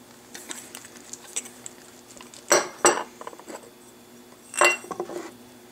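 Baking soda and cornstarch being mixed in a covered container, giving light rattling and a few sharp knocks and clinks of the container, close and intermittent in a quiet room without speech.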